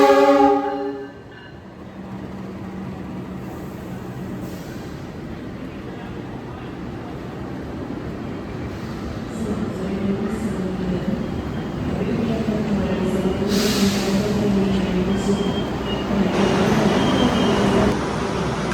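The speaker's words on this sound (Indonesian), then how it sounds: "Kereta api Wijaya Kusuma berangkat dari jalur 2 Stasiun Kertosono" The Wijaya Kusuma passenger train at Kertosono station gives a brief horn tone at the start, followed by a steady, growing rumble of rolling wagons that builds louder toward the end.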